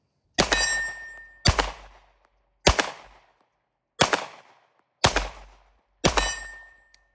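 Six sharp, loud rifle shots fired at a target 26 yards away, each a sudden crack with a short ringing decay, spaced roughly a second apart outdoors with no talk between them.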